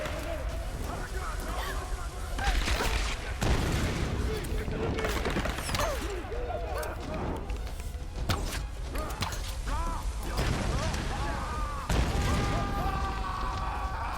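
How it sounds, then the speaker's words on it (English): Machine gun fire and dense combat noise from the 2013 Tomb Raider video game run throughout as a loud, continuous barrage with bursts and crashes, with a voice talking over it at times. "I'm getting screwed up by machine gun fire."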